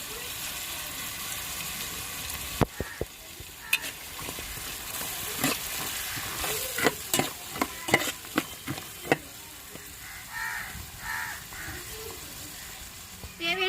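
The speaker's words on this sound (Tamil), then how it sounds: "தேவையான உப்பு போட்டு கிண்டி விட்டுக்குருவோங்க" A spoon stirs green pea gravy with ginger and salt in a pan, giving soft scraping clinks and scattered sharp taps over a faint sizzle, with quiet background noise throughout.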